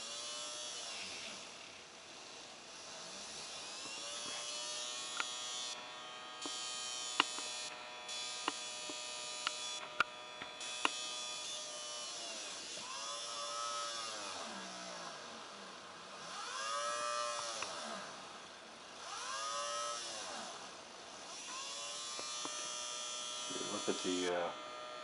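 A small electric motor powered by a bifilar double loaded coil hums with a steady, fairly quiet buzz, and someone talks throughout over it.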